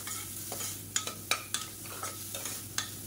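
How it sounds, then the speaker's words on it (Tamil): Carrots sautéing in a pan for a millet porridge, with a steady soft sizzle and repeated clinks and scrapes of a spoon stirring at an uneven rhythm, close up and with no talk. "அது நல்லா வதங்கிடுச்சு."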